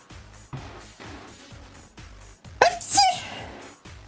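A single loud sneeze bursts out partway through, sharp and close, over a low droning background with rhythmic music-like pulses.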